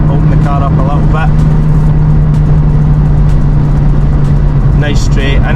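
A Mercedes-AMG A45 S accelerating on an open Scottish road, a loud, steady engine drone with a constant low hum and road roar throughout, with someone talking over it at moments.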